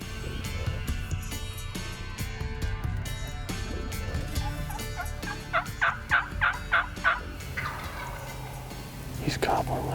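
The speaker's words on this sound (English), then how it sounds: "He's gobbling like crazy" A wild turkey gobbles in a rapid, rattling burst at moderate distance amid outdoor background noise, with another gobble near the end.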